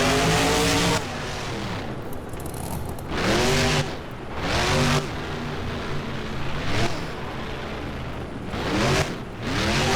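Monster truck Tropical Thunder in the BeamNG video game revving its engine hard in repeated surges, rising and falling blasts alternating with quieter gaps, loud and close.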